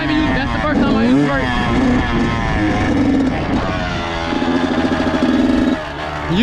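A Kawasaki KX112 dirt bike engine in second gear, its note rising and falling with throttle blips, loud and close with a voice talking over it.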